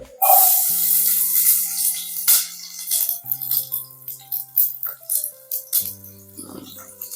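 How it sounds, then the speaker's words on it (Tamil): Onions dropped into hot ghee for mushroom biryani set off a loud burst of sizzling and rattling that gradually settles into a softer, uneven crackle with occasional clinks, under a steady tonal hum. "வெங்காயத்தை வந்து போட்டுடலாம் இதில்"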